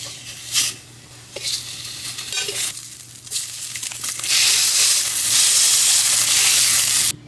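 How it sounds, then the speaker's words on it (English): Sausage crumbles frying in a pan, with occasional stirring scrapes and a sizzle that swells into a loud steady hiss near the end, no talking. "So now we have the sausage in the pan. We are going to cook it"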